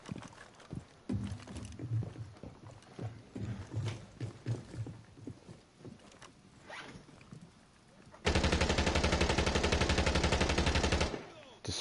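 Rainbow Six Siege gunfire comes as scattered single shots and short bursts over the first stretch, followed by a long, loud, dense burst of rapid automatic fire.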